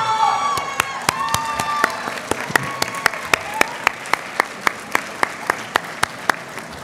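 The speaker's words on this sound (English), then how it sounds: "give a heartfelt applause to honor your parents, families, and loved ones" At a Latina/o graduation celebration, graduates give their parents and families a hearty round of applause and cheering in a large hall, with sharp, regular claps standing out near the front as the crowd noise thins.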